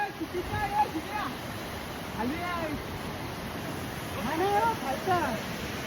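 A steady rushing roar of a waterfall fills the background while people talk faintly over it, heard from the top of the Kapra waterfall near Alibag.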